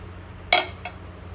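A cooking pot set down in a Goan home kitchen while chawli ross is made: one sharp metallic clink, then a fainter second tap, over quiet background hum.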